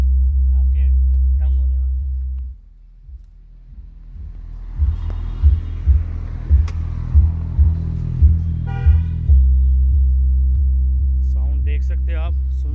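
An Xpider 8-inch bass tube subwoofer plays in a car's open boot, giving a deep, steady booming bass with rhythmic punchy thumps and faint higher musical tones over it, loud and close.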